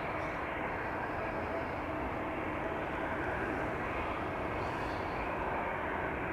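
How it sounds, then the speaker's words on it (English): An airliner arriving on runway 27 at Amsterdam Schiphol Airport roars in a continuous, broad engine rush that holds loud and steady throughout, with no voices. "another half hour of arrivals here on runway 27"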